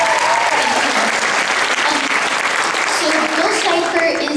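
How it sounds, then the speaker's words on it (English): Sustained applause from a convention panel audience fills the room loudly and steadily, with cheering voices mixed into the clapping throughout. "Applause for you for that"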